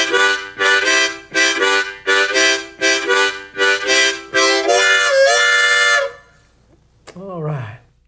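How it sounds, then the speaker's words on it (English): A close harmonica plays the train rhythm as a run of rapid, evenly spaced chord pulses that merge into a long held chord, followed by a short rising-and-falling whistle-like wail. Loud and clear, with no voices. "All harmonica players know how to play the train."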